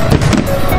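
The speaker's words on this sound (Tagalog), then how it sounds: "kung nakikita nyo yung fireworks yan kanina" Fireworks bursting over the Kiso River at the Minokamo Hanabi summer festival, a loud, dense, continuous rumble of booms and crackle filling a short stretch without talk.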